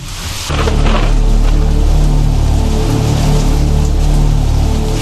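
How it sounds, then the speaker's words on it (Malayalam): A heavy rain and thunderstorm sound effect for a Malayalam radio drama comes in after a brief quiet start, then holds a loud, dense downpour hiss with a low rumble beneath. "പുറത്ത് ഇരുട്ടും ഇടയും മഴയുമാണല്ലോ"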